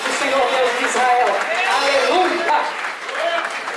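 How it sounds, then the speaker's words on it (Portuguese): A church congregation claps continuously through the whole stretch, a dense, fairly loud patter of hands with a preacher's voice speaking over it. "Aplauda o Senhor nessa noite, porque Ele está nesse lugar."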